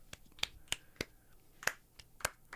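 Sharp hand claps, about ten of them in an irregular, quick series, close and crisp against a quiet room.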